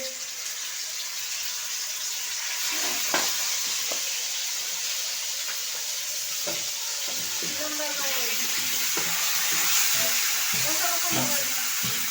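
Marinated meat fries in a wok over a steady hiss of sizzling oil, with intermittent scraping and stirring clatters of a utensil against the pan, moderately close.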